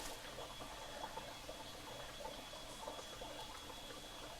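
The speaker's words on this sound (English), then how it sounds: "Can you hear the water coming in?" Rainwater runs steadily into a collapsed hollow while it is still raining, a faint continuous trickle and wash with no speech.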